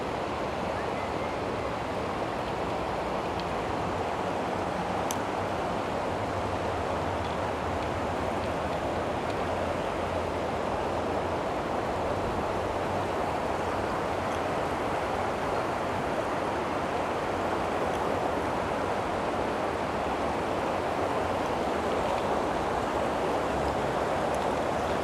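River water flows in a steady, broadband rush that stays even and continuous throughout, close and moderately loud with no voices.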